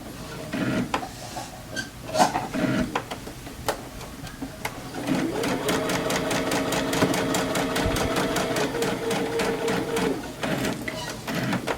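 A sewing machine stitches quilt seams, its needle running in a quick, steady mechanical rattle for several seconds after a few scattered clicks and handling sounds; someone speaks briefly at the start.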